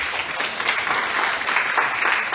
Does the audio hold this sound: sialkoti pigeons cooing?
no